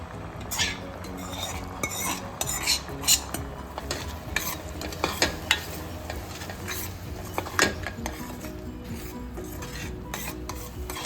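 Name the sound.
stirring boiled mung dal into melted jaggery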